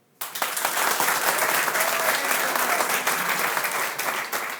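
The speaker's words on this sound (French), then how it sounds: "Par applaudissement, qui me connaît?" Audience applause bursts in abruptly after a brief quiet moment and holds steady as dense, full clapping from a crowd at a live event, with a few faint voices mixed in.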